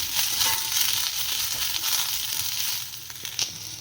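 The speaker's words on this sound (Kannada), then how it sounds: "ಇದೆಲ್ಲ ನೀಟಾಗಿ ಫ್ರೈ ಆಗ್ತಾಯಿದೆ." Roasted gram (hurigadle) frying in hot oil for a homemade curry base, giving a dense, steady crackling sizzle close by with small pops throughout and no voices.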